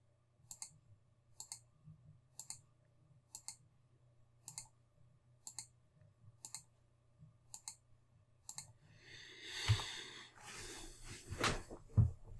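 Quiet, evenly spaced single computer mouse clicks repeat about once a second, followed by a burst of softer rustling and a few louder knocks at the end.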